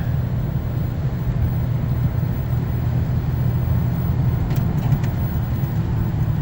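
A 1989 Buick Riviera's engine drones steadily from inside the cabin as the car accelerates through its gears, a continuous low rumble with road noise and no clear break between shifts.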